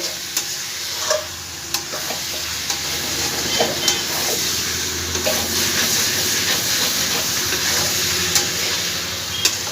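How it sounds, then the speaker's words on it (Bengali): Boiled jackfruit and potato are stirred with spices in a pan, with a continuous sizzle and hiss under regular spoon scrapes and knocks about once a second, close by and moderately loud. "ভালো করে একটু নাড়ানাড়ি করে দেবো মশলার সঙ্গে"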